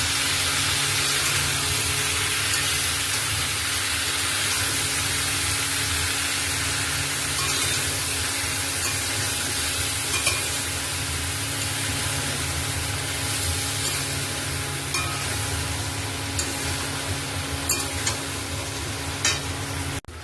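Spices hit a hot pan with a dense, hissing sizzle that stays loud and steady for about twenty seconds, broken by a few faint clicks and scrapes of stirring, no voices.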